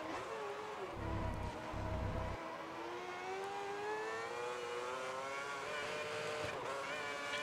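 Engine of a Lotus Formula One car in the racing game F1 2010 at the Chinese Grand Prix: a steady, loud, high-pitched whine that climbs gradually through the gears, with brief low thumps early on and no voice over it.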